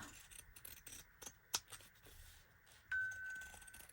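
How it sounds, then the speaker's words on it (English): Quiet zigzag scissors snip and rasp through fabric in a few short, separate cuts with a sharp click midway. "Let me use my zigzag scissors so I don't get any threads."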